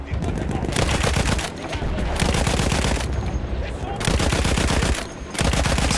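A Lewis machine gun fires in long, loud sustained bursts in Battlefield 1, rapid continuous rattling broken by brief pauses.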